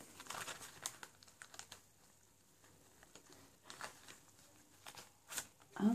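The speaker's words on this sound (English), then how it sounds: "Let's pull them out and let's count them." Crinkly plastic wrapping rustles and crackles in bursts as cards, which turn out to be Shopkins stickers, are pulled from a pack inside an Easter surprise egg box, close and fairly quiet.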